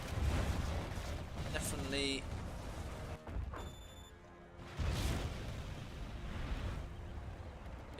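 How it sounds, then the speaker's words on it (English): Cannon fire on an oil target in the video game C&C Zero Hour comes as a few booming bursts heard beneath steady, continuous commentary. "Cannon is actually firing on the oil"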